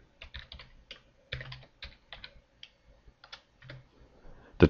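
A profile name is typed on a computer keyboard in a network configuration setup, giving close, crisp key clicks in uneven bursts with short pauses and a louder final tap.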